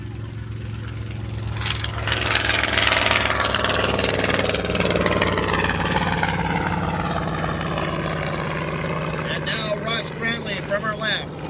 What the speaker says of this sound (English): Bud Grantley in the Zero on the roll.